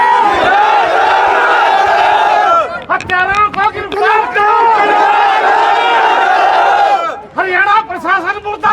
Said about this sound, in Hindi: देखिए डीसी साहब इंसाफ दो की जो मांग है वो लगाते हुए नज़र आ रहे हैं।